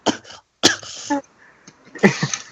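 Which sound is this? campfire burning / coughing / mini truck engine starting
coughing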